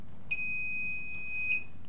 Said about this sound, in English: You already hear the recorder beeping.